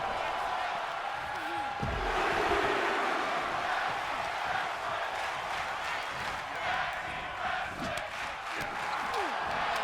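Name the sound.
crowd chanting tag team wrestling in WWE2K23 video game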